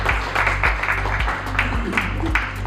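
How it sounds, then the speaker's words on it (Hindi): Applause from the audience at a school book launch ceremony in Agra, with irregular claps over a steady low hum from the hall's sound system. "तो एक बार सबके लिए तालियां बजा दीजिए।"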